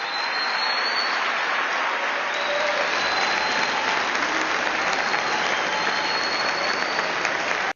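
A political rally crowd applauds and cheers in a sustained standing ovation for a speech on women's sports, loud and steady throughout with no pause.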